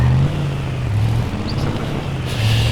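A car driven in the video game Just Cause 2 multiplayer gives a steady, fairly loud low engine drone that holds constant throughout, with no talking.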